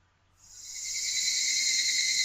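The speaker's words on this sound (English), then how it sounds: "The evening cicadas of Higurashi." Evening higurashi cicadas from the Higurashi game fade in and settle into a sustained, high, shimmering drone that stays steady and fairly loud, with no voices over it.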